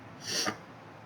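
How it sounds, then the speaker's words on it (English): A single sneeze from a person who is sniffly and congested, a short close burst of breathy noise lasting about half a second, alone in a quiet room. "now I sneeze"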